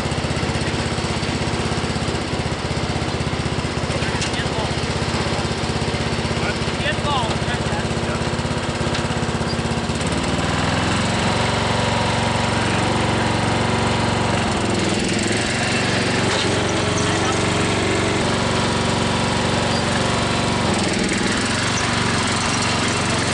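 A tractor rigged as a redneck roller coaster with a wheelie bar, its engine droning loud and steady throughout with rough surges and rumble, close to the listener.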